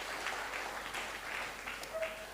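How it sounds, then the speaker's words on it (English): An audience at a Jamaican public engagement in St Ann gives a round of applause for farmers and fishers, a faint, distant wash of clapping that continues evenly throughout. "can we have a round of applause for our farmers and our fishers who are out there"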